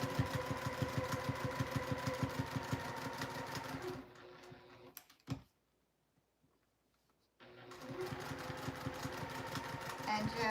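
A sewing machine runs in steady, rapid stitching bursts through fabric, stops briefly for a needle pivot with a faint click, then starts stitching again at the same even pace.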